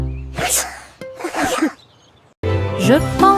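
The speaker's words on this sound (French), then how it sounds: "Les éternuements les plus stupides de tous les temps." Three silly sneezes in a children's song, each a sharp burst separated by short pauses, close and loud with a bright whistly tone.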